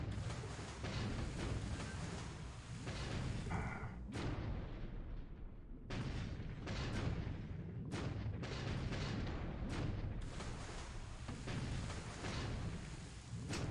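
Naval gunfire in a WWII Pacific combat video game, aimed at a destroyer, roars as a dense, continuous barrage with heavy booms breaking through at intervals and no pauses.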